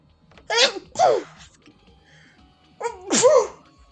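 Several sharp sneezes, loud and close, come in two pairs separated by a quiet gap. They sound like sneezes from an anime game character.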